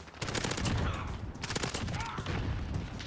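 Rapid bursts of MP7 submachine gun fire in the video game Call of Duty Warzone, loud and close, with several sustained strings of shots crackling back to back and no talk over them.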